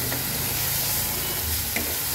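Mashed dried loitta fish stir-fried on low heat, a constant soft frying hiss with faint spatula scrapes and a light clink near the end, no talking.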